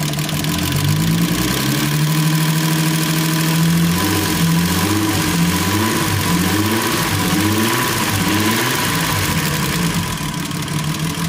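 A newly built VW VR6 turbo engine runs close up just after starting, idling with a few wavering revs and light tapping lifters, loud and steady throughout with no one speaking.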